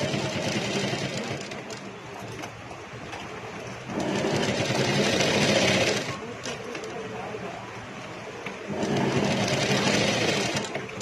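A sewing machine stitches a salwar seam with patte while the fabric is held taut, running in bursts against steady background noise and a voice talking alongside.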